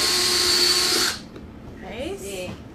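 A power drill whirs loudly and steadily for about a second while drilling into a pumpkin, then cuts off, followed by quieter scraping and faint voices.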